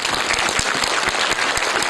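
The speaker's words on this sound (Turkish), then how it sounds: "Lütfen bizi alkışlayın." Audience applauding at a kindergarten year-end show, a steady dense wash of many hands clapping close by, continuous and loud throughout.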